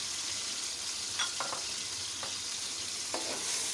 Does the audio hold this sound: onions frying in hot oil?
yes